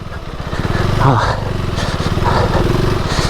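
A 2025 KTM 390 Adventure motorcycle rides along a dirt trail, its single-cylinder engine giving a steady, close, throbbing putter with slight rises in revs, while a rider speaks over it.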